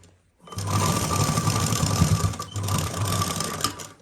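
Sewing machine stitching a bell sleeve, running in a steady fast mechanical whir that starts after a brief silence, pauses briefly midway, then resumes at close range with no talk.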